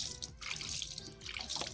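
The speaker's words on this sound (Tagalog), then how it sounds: "buhusan natin ng tubig" Water is poured over a motorcycle disc brake caliper while the brake is bled on a Smash 115, giving a soft, close splashing and trickling that runs steadily with small surges.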